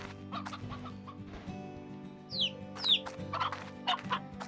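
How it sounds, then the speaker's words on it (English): Chickens in the video game Slime Rancher cluck in short, separate bursts over a quiet, steady background hum, several distinct calls scattered across the scene. "Bunch of chickens up here."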